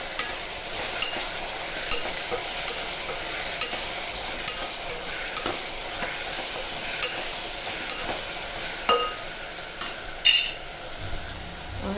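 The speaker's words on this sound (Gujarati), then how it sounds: "હવે આપણે તેને મિક્સ કરીશું." Cabbage, potato and tomato curry with chilli, turmeric and spices is stirred in a pan over a steady sizzle, with regular scraping strokes roughly every second.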